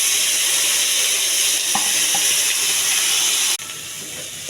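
Onions fry in hot oil with ginger garlic paste and salt, giving a loud, continuous sizzle and hiss close by, with a few clinks of stirring and a slight drop in level near the end.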